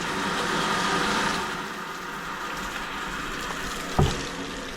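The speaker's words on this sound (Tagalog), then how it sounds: "Gumana na yung bago mong motor." A newly installed water pump motor runs steadily at a household water tank, its broadband hum and rushing water filling the clip, with a brief knock near the end.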